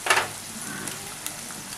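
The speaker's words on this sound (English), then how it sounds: "And now here we are putting turmeric powder or haldi, half a teaspoon." Half a teaspoon of turmeric powder hits a hot pan while chicken korma cooks, giving a short burst of crackle at the start and then a steady, close, soft sizzle and fry with no talking.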